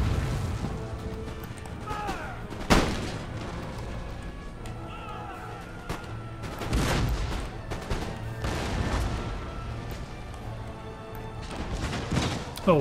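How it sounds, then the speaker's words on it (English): Cannons firing canister shot on an Empire Total War battlefield, scattered booming volleys and crackling musketry, some distant and some nearer, with talk running underneath. "Canister shot going in."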